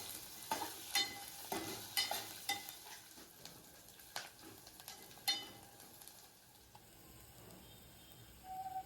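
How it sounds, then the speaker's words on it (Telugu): Onions, curry leaves and tempering seeds being stirred in a frying pan for South Indian wheat rava upma: a spoon scrapes and taps the pan in a steady rhythm over a soft sizzle, then the stirring stops and the frying continues alone. "మొత్తాన్ని ఇప్పుడు కలుపుకోవాలి."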